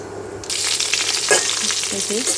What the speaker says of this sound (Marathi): कढीपत्ता आणि हे जे भरून घेतलेली वांगी आहे तर ते आता या तेलात